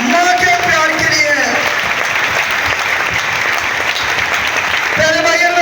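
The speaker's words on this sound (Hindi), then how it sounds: "और जोर से ताली बजाए आप माँ के लिए" A congregation at a homily at a Marian shrine breaks into loud, sustained applause, a dense wash of clapping filling the middle of the stretch, with a voice speaking briefly just before and after.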